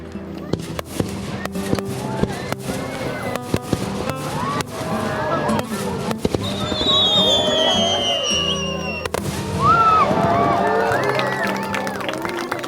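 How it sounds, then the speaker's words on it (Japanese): Fireworks popping and cracking in scattered bursts, with a whistling rise at one point, under the chatter and babble of a nearby crowd at a campground camping-car gathering. "花火上がっております。"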